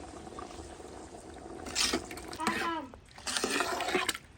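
Water poured into a pot of rice for squid biryani, a splashing gush that comes and goes in bursts while people talk nearby.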